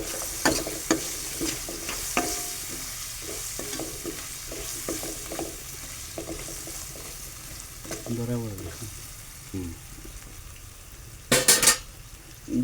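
A capsicum curry with ground masala paste sizzles in a pan while a spoon stirs and scrapes it, producing repeated scraping clinks over a steady fry, with a person speaking softly in the background.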